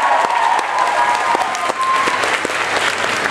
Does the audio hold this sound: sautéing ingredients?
no